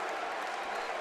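An energetic home crowd at a Michigan Wolverines men's basketball game against Buffalo in Crisler Arena, heard as a dense, continuous roar of cheering and applause.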